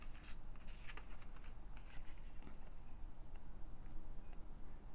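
Scissors cut a hole in a paper tag, crisp snipping and rustling close up in quick irregular strokes against a steady faint background hiss.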